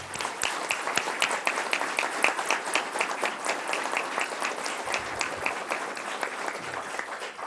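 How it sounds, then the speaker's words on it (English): Board meeting audience in a township hall gives a steady round of applause, dense overlapping claps at a modest, even level for several seconds. "If you want to give him a huge round of applause"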